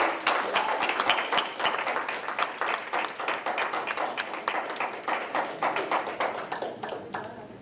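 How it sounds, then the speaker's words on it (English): A seated audience at a volunteer recognition gathering gives a long round of applause, many hands clapping in a steady, fairly close, continuous patter that eases slightly toward the end. "Let's give everybody a big round of applause."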